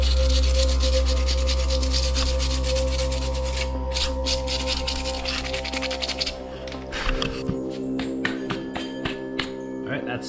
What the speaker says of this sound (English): So I'll just take a little bit of sandpaper.